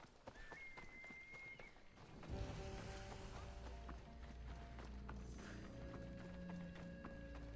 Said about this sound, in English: How do I summon my horse again?